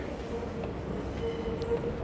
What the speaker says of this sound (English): think the train's coming. I hear it.